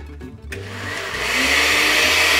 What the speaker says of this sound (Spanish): Vamos a moler.